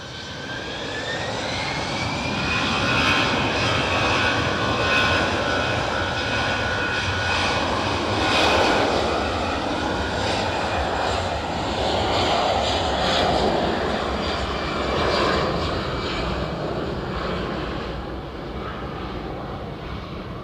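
An airliner departing Edinburgh Airport gives a sustained, loud jet engine roar with a rising whine, holding steady for about twenty seconds before easing slightly at the end, with no talking.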